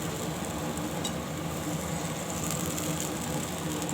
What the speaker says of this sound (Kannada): ಚೆನ್ನಾಗಿ ಅದು ಫ್ರೈ ಆಗ್ತಾಯಿದೆ